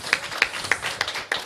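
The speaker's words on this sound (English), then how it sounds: "Give her a round of applause" Conference audience clapping for a panel speaker, a short burst of sharp, separate hand claps in an uneven rhythm, fairly close and fading quickly.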